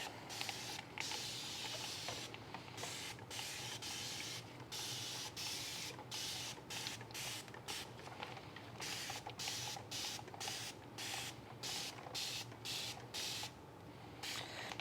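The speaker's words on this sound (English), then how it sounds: "I mean the best squirt bottle. This is more like a mist" Bursts of fine mist from a squirt-style spray bottle onto houseplants to kill mealybugs, many quick hissing sprays in a steady irregular rhythm, close and fairly soft, with no talking.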